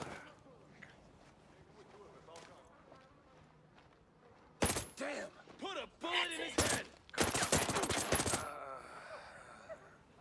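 Sharp bursts of rifle fire crack out in the second half of a Ghost Recon Breakpoint firefight, loud and close, several shots in quick clusters, with quiet radio-style voices beforehand.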